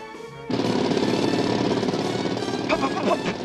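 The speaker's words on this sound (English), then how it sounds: "This is a jackhammer." Cartoon jackhammer in a Scooby-Doo scene, mistaken for an automatic pogo stick: a loud, rapid, continuous mechanical hammering rattle kicks in abruptly after a short pause and runs steadily to the end.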